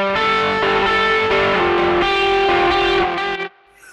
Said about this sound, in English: Now I have a noise gate, a delay, and a chorus. The delay is on, the noise gate's on.